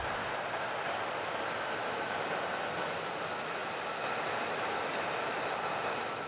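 An F-35 fighter jet taking off, its engine producing a loud, continuous broadband roar that stays steady and powerful throughout, with no voices.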